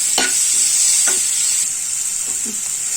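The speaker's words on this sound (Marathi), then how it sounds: "कांदा आपण तेलामध्ये जरा परतवून घेऊया" Onion and dried red chillies sauté in hot oil with a loud, bright, continuous sizzle, broken by several spoon scrapes of stirring, close up with no talking.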